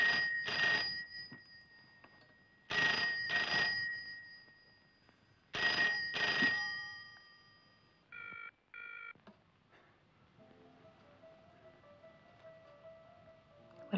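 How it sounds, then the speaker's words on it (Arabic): Telephone in a home scene from an Egyptian film ringing in three separate double-burst rings with quiet gaps between, clear and fairly loud, followed by a few shorter electronic tones and a faint low hum. "ما حدش يرد على التليفون"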